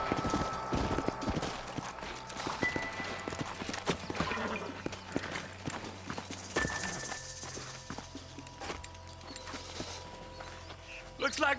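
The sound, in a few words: horses trotting in the video game Red Dead Redemption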